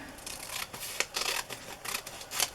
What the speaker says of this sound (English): I'm going to rub the glue on my pieces and then the excess glue will get on that